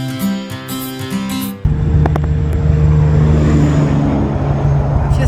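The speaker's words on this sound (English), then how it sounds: "there's a bike starting up" Motorbike engine starting up outdoors on a road trip, a loud low rumble kicking in abruptly after a short musical passage and then idling steadily close by.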